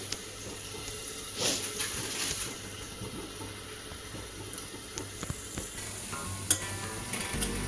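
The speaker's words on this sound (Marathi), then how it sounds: "आता हे सगळे पराठे मी बनवून घेते" Spinach parathas fry on a pan with oil or ghee, giving a steady, soft sizzle with faint scraping and clinking from handling throughout.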